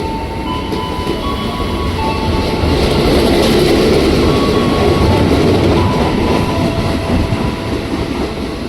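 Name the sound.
commuter train arriving at station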